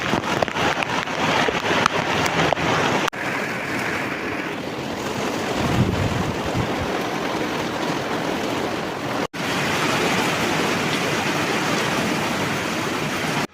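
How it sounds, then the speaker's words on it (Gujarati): Heavy rain pours down outdoors in a dense, steady roar close to the microphone, with wind buffeting it and a couple of brief dropouts. "પાછો વરસાદ આવી ગયો છે"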